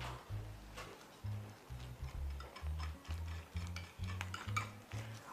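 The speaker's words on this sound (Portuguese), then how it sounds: "Agora a gente mistura bem, viu? Até envolver os dois ingredientes." Two dessert ingredients being stirred together in a bowl, a spoon scraping and tapping in a steady rhythmic series of short knocks, close up and fairly quiet, with no talk.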